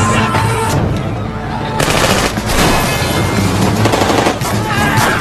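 Heavy gunfire in a film shootout at a border, sustained automatic bursts overlapping into a loud, dense barrage.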